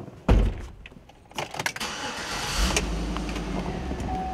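A Chevrolet Avalanche engine starts: a sharp thump and clicks, a short cranking stretch, then the engine catches and settles into a steady low idle, close and fairly loud.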